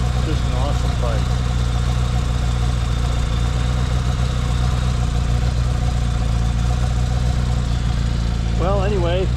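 1975 Honda Goldwing motorcycle engine idling steadily, a low continuous rumble heard close, with brief bird chirps near the start and end.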